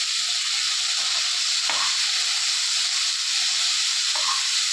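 Beans stir-fried in coconut oil with chili powder sizzle steadily in a pan, a dense, even hiss running throughout with a couple of faint stirring scrapes.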